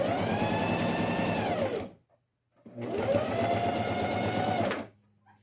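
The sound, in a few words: sewing machine stitching necessaire box lining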